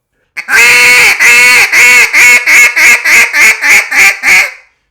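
A double reed duck call is blown loudly in a descending series of about ten raspy, honking quacks, quickening toward the end, close and alone.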